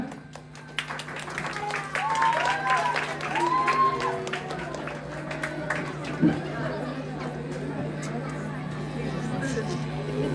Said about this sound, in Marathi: जोरदार टाळ्या वाजवायच्या त्या.